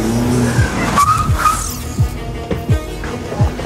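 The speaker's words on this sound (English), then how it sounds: "it has an engine that delivers punch and acceleration" BMW 125 from the 2017 1 Series accelerating hard, engine revving in sharp bursts while tires squeal and skid repeatedly, several loud close swoops in quick succession.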